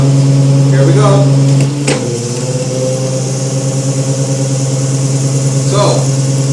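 An electric drive running through a ZF automatic gearbox hums with steady tonal whine; a sharp click and thump come as solenoid valve power cuts, the tone drops and the gearbox settles into emergency mode, then someone speaks briefly.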